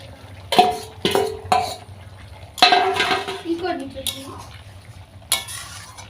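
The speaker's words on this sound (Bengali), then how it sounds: "ফুটে উঠেছে, এবার ভাজা কই মাছগুলো দিয়ে দেবো।" Pieces of fried koi fish go into a pot of cauliflower curry at a boil, giving several sharp splashes and clinks of a utensil against the pot, with a soft bubbling simmer between them.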